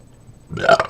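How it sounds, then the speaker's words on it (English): A single short, loud burp after drinking beer erupts after a moment of near silence, close to the listener. "nothing burps like beer"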